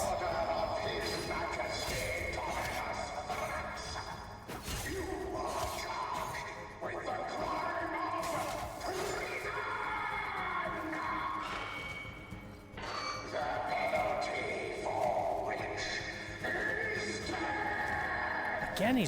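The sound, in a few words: horse neighing and galloping in the video game Warframe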